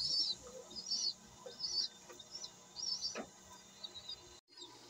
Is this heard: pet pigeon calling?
yes